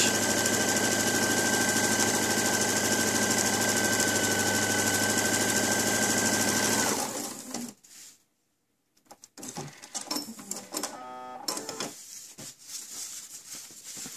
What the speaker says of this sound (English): the zigzags are cutting right across my previous stitch